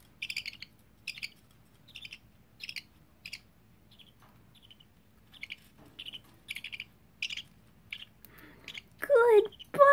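Baby budgie pecking and nibbling at food, soft, quick repeated clicks and crunches close by, with brief chirps and a louder burst of bird call near the end.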